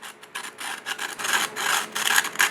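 Sandpaper rubbing back and forth over the jagged, chipped edge of a fragile seashell, a bright gritty rasp in short repeated strokes, close and steady with no voices.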